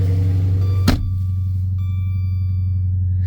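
Engine of an old Dodge Charger idling after a push-button start, a steady loud low rumble with a brief sharp burst near the start, then a constant throaty drone.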